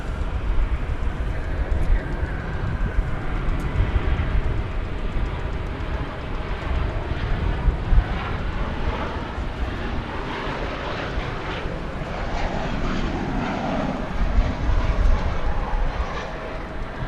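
Airliner arriving at DFW Airport on a flight from Miami, a broad rumbling jet roar that rises and swells steadily as it approaches, heard alone at moderate distance without speech.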